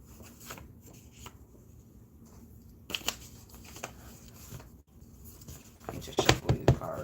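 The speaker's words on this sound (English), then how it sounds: "Let me just shuffle these cards." A deck of cards is shuffled at close range, giving soft riffling and patting sounds with a few sharper snaps and a busier flurry near the end, during a quiet stretch of a live stream.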